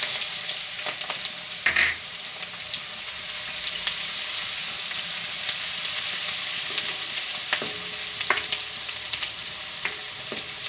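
Onions frying in hot oil with ginger and chillies for a methi-potato curry, giving a steady close sizzle with occasional stirring knocks and scrapes, continuous and free of talk.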